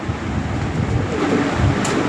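Pigeons of the American Archangel, Modena and Lahore breeds coo in low, soft, overlapping murmurs close by, a steady warbling throughout with a faint background hiss.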